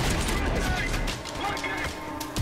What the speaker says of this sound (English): The shotgun sounds like a friggin' howitzer.